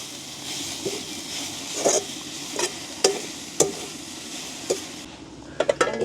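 Greens with grated coconut stirred in a pan over a steady sizzle, with a spoon scraping the pan in distinct knocks every half second or so and a quick clatter near the end.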